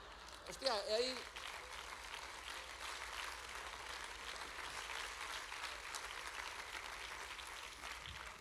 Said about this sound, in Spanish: a xente aplaude igual